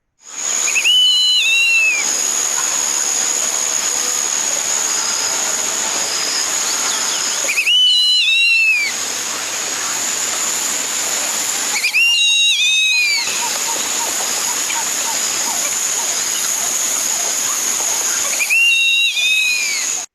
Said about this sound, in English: This is actually the West Indian whistling duck